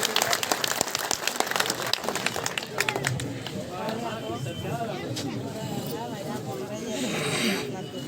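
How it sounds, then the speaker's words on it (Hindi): Crowd clapping at an outdoor political street rally in a village, sharp claps early that thin into a general crowd hubbub with voices talking over it. "जोरदार तालियों के साथ उनका अभिनंदन करें।"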